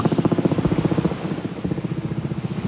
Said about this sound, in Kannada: ಈಗ ತಾನೇ ಒಂದು ಹೆಲಿಕಾಪ್ಟರ್ ಬಂತು